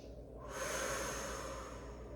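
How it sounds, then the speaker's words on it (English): One deep breath drawn in close up during a child pose stretch in a Pilates session, a soft airy inhale that swells and holds for a couple of seconds. "Reach your arms and take a couple of deep breaths here."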